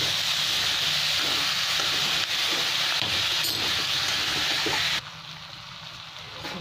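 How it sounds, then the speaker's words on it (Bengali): Potatoes, peas and coriander are sautéed in a pan for an aloo motor curry, producing a continuous close sizzle with faint stirring, dropping noticeably quieter for the last couple of seconds. "1 বাটি মটর দিয়ে কিছু এটা দিয়ে দিলাম পুরোটাই। সাথে একটু ধনে পাতা দিয়ে দিলাম। খুব ভালো করে কষে নেব।"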